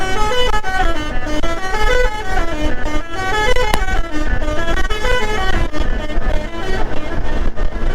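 A truck's loud musical horn plays a repeating melodic tune over road and engine noise on a road in Jaipur, Rajasthan, close by and continuous.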